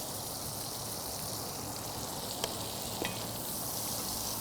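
Onions sizzling in a couple tablespoons of leftover bacon grease with a shake of whiskey barrel smoked salt, a steady, even frying hiss with two brief clicks, no talking.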